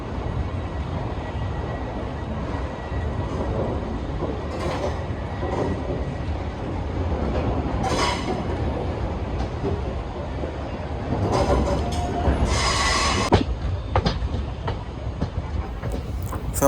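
A Santragachi–Secunderabad summer special train runs on, its steady wheel rumble and rail noise loud and continuous throughout, with brief brighter rattles and hisses rising over it now and then.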